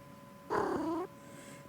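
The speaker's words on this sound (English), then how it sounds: "The cat's still purring." A cat purrs in the Judge Sim video game: one short, rumbling purr of about half a second, fairly close and clear against a quiet background.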